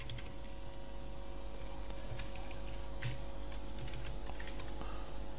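Code typed on a computer keyboard, producing light scattered key clicks over a constant low electrical hum with no talk.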